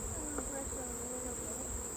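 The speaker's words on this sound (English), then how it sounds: "So I'm just gonna brush the bees off" Honey bees drone steadily at an open hive during a honey harvest, a continuous close buzzing with a faint high whine and no clear speech.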